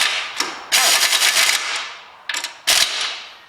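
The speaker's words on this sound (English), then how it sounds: "hopefully the power of the air gun normally stops that" Pneumatic air impact gun tightening a CV joint nut on an Audi TT, loud rattling hammering bursts, a long one followed by shorter ones, close up in a garage with no talk.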